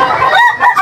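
A gamecock rooster crowing at a poultry market in Lipa, Batangas, one loud close crow with wavering pitch that fills the whole moment.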